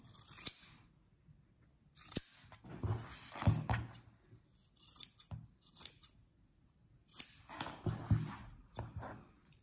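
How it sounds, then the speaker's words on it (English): Scissors snip through the fabric corners of an apron in close, crisp bursts of short cuts separated by quiet pauses, with no talk over them. "I'm going to use my scissors and cut across, not clipping through my stitches"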